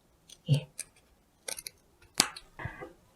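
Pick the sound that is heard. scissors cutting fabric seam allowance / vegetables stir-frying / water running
scissors cutting fabric seam allowance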